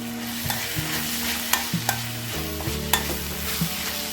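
Kashmiri chilli powder is stirred into a frying prawn masala, with a constant close sizzle under repeated scraping and knocking strokes of a spoon against the pan.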